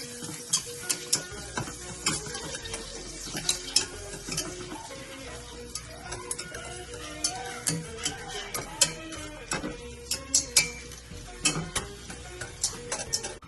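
Butter sizzling and crackling in a pot, with steady spitting pops and a few sharper clicks, close up and fairly loud.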